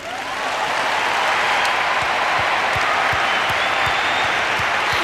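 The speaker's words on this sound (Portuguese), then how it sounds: "Vamos aplaudir o Senhor?" A church congregation at a praise congress bursts into loud applause, swelling quickly into a dense, continuous roar of clapping with crowd noise beneath.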